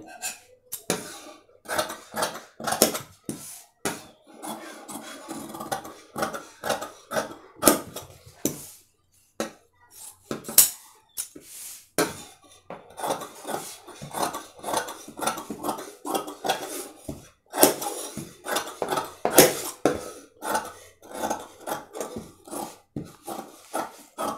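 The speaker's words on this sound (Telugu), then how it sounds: "ఇప్పుడు మనం కట్ చేసుకోవాలండి" Scissors cutting blouse fabric on a hard surface, repeated short snips and crisp clicks in irregular bursts with a few short pauses, close and dry with no talking.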